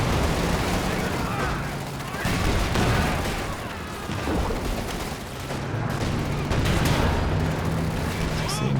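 Anti-tank overwatch artillery barrage in Company of Heroes 2, a 3v3 match against big cats: dense, continuous rumbling bombardment with overlapping booms and blasts throughout, loud and sustained with low battlefield noise underneath.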